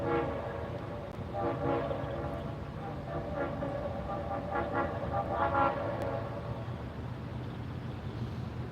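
A CSX commemorative freight train rumbles steadily past at a distance, with a horn sounding in several faint, sustained blasts over the continuous rolling noise of the rail cars.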